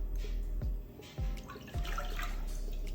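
Chicken broth is poured into a cooking pot to make yellow rice, giving a soft, steady liquid trickle with a few drip-like splashes, fairly quiet and unaccompanied by talk.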